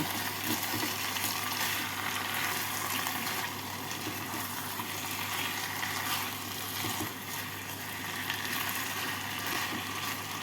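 Chicken sizzles in hot spiced oil in a pan while it is stirred after salt goes in, a continuous close crackling hiss with a low steady hum beneath and occasional scraping.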